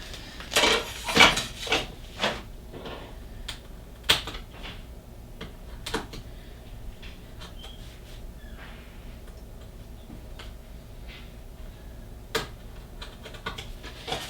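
A Cricut Maker knife blade cuts through basswood, giving a quiet run of irregular clicks and taps with a few sharper ticks near the start, and no talking.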